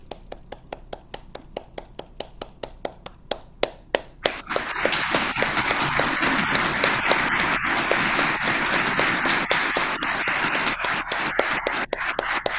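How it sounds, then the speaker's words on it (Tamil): An audience claps, starting with a few sparse, separate hand claps that quickly swell into sustained, dense applause lasting several seconds, fairly close and loud. "நீங்கள் எல்லாரையும் முதலாவது பாராட்டியும் வாழ்த்தியும் ஒரு 30 வினாடிகள் கைதட்டுங்கள்"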